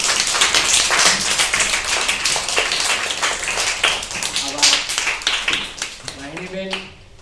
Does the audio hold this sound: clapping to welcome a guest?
yes